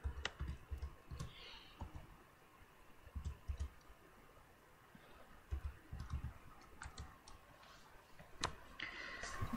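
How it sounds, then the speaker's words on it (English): Keys tapped on a computer keyboard in irregular bursts of quick clicks separated by pauses, moderately close and fairly quiet, with no talking. "Me typing."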